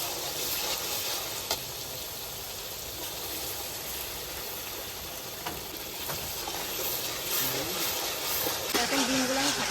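Ginger, garlic and green chili paste sizzling in a pan over frying onions, a steady loud hiss with occasional stirring scrapes throughout.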